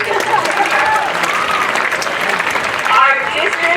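A graduation crowd claps for the school superintendent, a dense, loud, continuous applause that fills the whole stretch, with voices mixed in beneath it.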